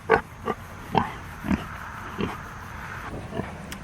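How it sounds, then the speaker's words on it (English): A big farm pig grunting close by in a series of short, irregular snorts and oinks, about eight bursts spaced under a second apart, with no speech. "This big pig needs some scratches."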